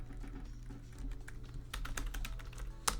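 A card name is typed on a computer keyboard, a quick run of close, crisp key clicks that grows denser toward the end, with no talk over it.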